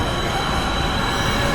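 A C-Train rolling past in a movie scene, a steady rumbling wash of rail noise with no distinct clacks or voices.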